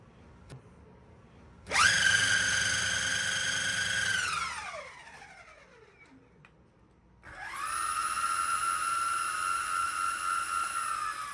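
A high electric skateboard belt motor whine, from an Evolve Hadean Bamboo all-terrain board, rises sharply, holds steady, winds down and fades, then swells back to a sustained pitch.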